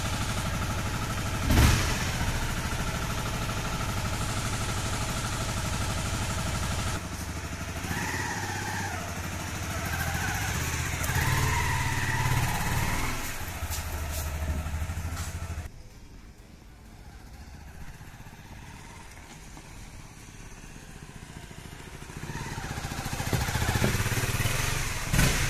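A Honda CBR 250 motorcycle with freshly changed oil runs on a short ride, its engine rising and falling through gear changes amid wind noise, then easing off before picking up again.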